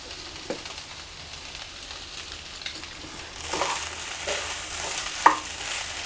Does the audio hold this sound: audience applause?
no